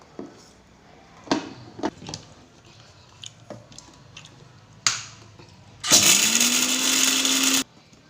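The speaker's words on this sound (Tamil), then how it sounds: "இப்போ அந்த மிளகு எல்லாம் போட்டு நல்லா திரிச்சிருக்கு" A mixer grinder grinding black pepper whirs loudly for about two seconds after a few scattered clicks and knocks, then cuts off abruptly.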